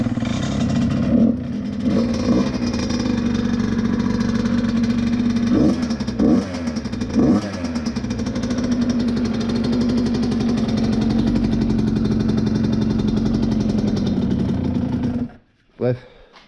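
A French off-road dirt bike engine runs loud and close after starting, holding a steady idle with several sharp revs near the start and middle, then cutting off abruptly near the end.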